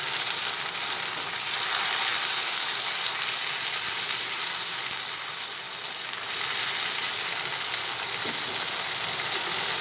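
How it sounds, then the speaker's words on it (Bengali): A paste of onion, garlic and ginger frying in hot oil, giving a loud, dense, continuous sizzle that holds steady with a brief dip in the middle. "পেঁয়াজ রসুন আর আদা একসঙ্গে পেস্ট করে রেখেছি সেটার পরে তেলের মধ্যে ঢেলে দিচ্ছি"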